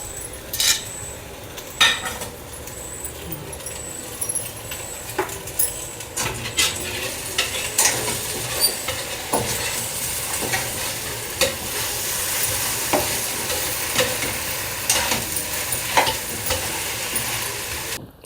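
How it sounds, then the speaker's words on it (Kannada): Sweet colocasia leaf rolls stuffed with coconut and jaggery, already steamed, fry in a pan with a bright, steady sizzle, and a utensil repeatedly scrapes and clinks against the metal as they are stirred; no voices. "ಜಸ್ಟ್ ಸ್ವಲ್ಪ ಫ್ರೈ ಆದರೆ ಸಾಕು"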